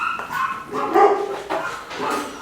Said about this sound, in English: We have dogs barking over there.